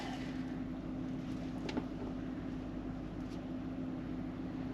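A 2018 Nissan Armada with automatic transmission idles in park while warming up, giving a steady, even low hum with a constant tone throughout and no talk.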